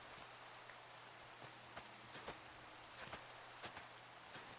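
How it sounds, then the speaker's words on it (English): Rain falling outdoors, a faint steady hiss with scattered soft drops and light taps, low and distant with no talk. "The rain just had to show up right then."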